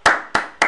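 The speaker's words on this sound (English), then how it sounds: "This is a clap." Three sharp single hand claps, evenly spaced about a third of a second apart, close and crisp with no other sound between them.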